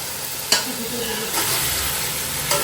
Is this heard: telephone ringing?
no